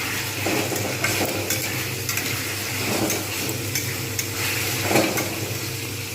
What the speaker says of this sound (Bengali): এগুলো কিন্তু আমি প্রত্যেকটা ভালোভাবে ভেজে নেবো